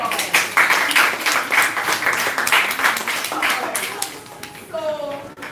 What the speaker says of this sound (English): Alright, give yourselves a big round of applause.